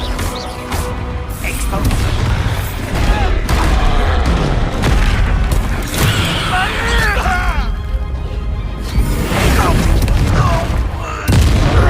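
Bombarda and Confringo spell explosions in Hogwarts Legacy, repeated loud booms and crashing blasts in dense combat, under shouted voices throughout.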